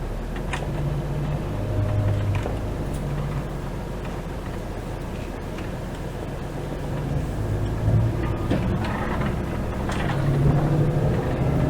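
Inside the cab of a Volvo FH13 500 truck pulling a trailer at just over 44 tons, a deep engine drone swells steadily as it accelerates, with low gear tones rising and road rumble underneath.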